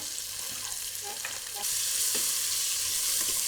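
Onions and pakora mixture fry in a pan for Punjabi-style kadhi pakora, with a steady close sizzle and some stirring that swells into a louder, fuller hiss partway through, and no voices.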